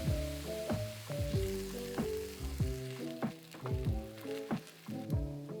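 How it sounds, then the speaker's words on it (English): White wine hitting arborio rice in a hot pan for risotto, giving a soft steady sizzle beneath louder plucked background music, with faint stirring sounds. "Add the white wine to deglaze and continue cooking until the liquid evaporates"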